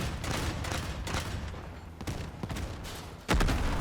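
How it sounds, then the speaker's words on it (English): Sticky grenades going off in a video game battle pass test, a series of sharp, crackling blasts and pops with a loud final boom near the end. "These are sticky grenades."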